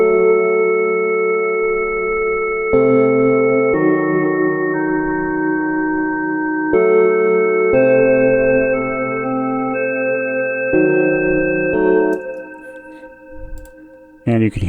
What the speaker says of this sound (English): And you can hear that diminished flavor.